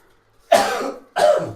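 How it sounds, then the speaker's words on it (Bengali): Two close, sharp coughs from one person in a home kitchen while cooking, each a short harsh burst separated by a brief pause, with near silence around them. "ক্যামেরা ধরলে গেলে কাশি আহে"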